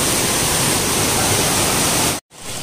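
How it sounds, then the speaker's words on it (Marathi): Waterfall water gushing out from beneath stones at a hidden waterfall near a village temple, a loud, steady, close roar of rushing water that cuts out briefly near the end before resuming. "ते धबधब्याचं पाणी बघा त्या ह्याच्यातनं त्या दगडातून खालून येत आहे"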